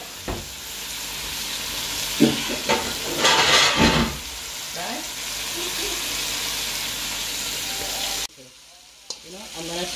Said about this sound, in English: let it just brown a little. There comes the garlic